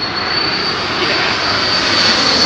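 An airliner with CF6 engines lands at Heathrow in stormy weather, its engines producing a loud, continuous roar close by, with no voices.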